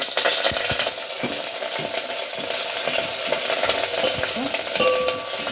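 Curry leaves fry in hot oil for a hotel-style pepper rasam, a close continuous sizzle with scattered crackles, spits and stirring clicks throughout.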